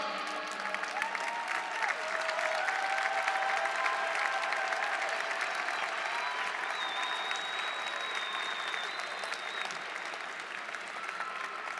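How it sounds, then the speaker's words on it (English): An audience at the John Jay College 2018 commencement applauds standing distinguished graduates, a sustained, even wash of clapping from a large crowd heard at a moderate distance, with a few brief tonal sounds above it. "I invite these distinguished graduates to stand up so that we may now applaud"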